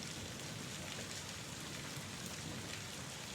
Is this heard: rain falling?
yes